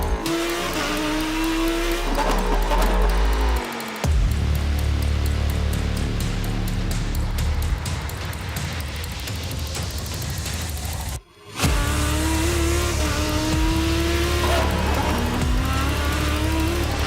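A Lamborghini Huracán GT EVO GT3 race car drives at speed at Kyalami, its engine a loud, steady roar that rises and falls through gear changes, broken by one brief cut in the sound near the end.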